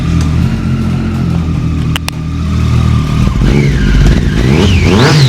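Loud Aprilia superbike engine revving up close, a steady low roar that climbs into sharp rising and falling revs in the second half, with no talk over it.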